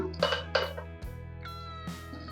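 A pan set down on a kitchen stove while cooking moringa leaf dal: a couple of light metallic clinks and one firm clunk, close and fairly quiet, against a steady low hum.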